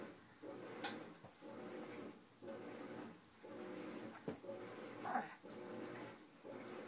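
A household clothes drawer slides and bumps repeatedly, a series of soft wooden scrapes and thuds as it is pushed but won't shut, quiet and close with faint breathing.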